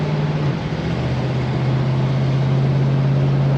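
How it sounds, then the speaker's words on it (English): A 1966 Chevy Nova cruising on a test drive, a steady droning engine hum with a constant low tone and road noise heard from inside the car, no talking. "Guys, we're on a test drive, just pulled out."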